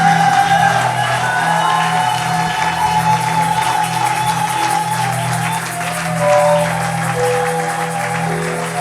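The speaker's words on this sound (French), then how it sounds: "Applaudissons pour le roi des rois, le seigneur des seigneurs." A church congregation applauds steadily and loudly throughout, a dense continuous wash of clapping with scattered cheers and whoops, and a sustained musical tone underneath.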